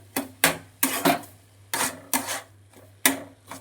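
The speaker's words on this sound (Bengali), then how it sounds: "এবার আবারও নেড়ে নিতে হবে গরম মশলার সাথে একসঙ্গে" A spoon scrapes and knocks through a mash of pumpkin and egg with garam masala in a pan, about nine separate stirring strokes in an uneven rhythm, close and fairly loud over a low hum.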